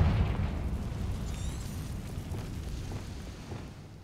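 A Confringo fire spell blasts in the video game Hogwarts Legacy, a deep, loud rumbling explosion that opens strongly and then rolls on as a sustained low roar for several seconds before slowly fading.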